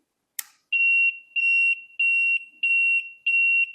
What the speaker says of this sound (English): you will hear this constant buzzing sound. This buzzer is basically the flow sensor.